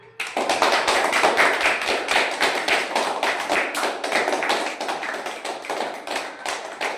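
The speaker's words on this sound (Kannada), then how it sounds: "ಚಪ್ಪಾಳೆ ಮೂಲಕ ನೀವೆಲ್ಲರೂ ಸಹ ಅವನಿಗೆ ಅಭಿನಂದನೆ ಸಲ್ಲಿಸಿ" Schoolchildren in a village school classroom clapping together for a classmate, a dense, fast, loud round of applause that starts abruptly and fades slightly over several seconds, no talk.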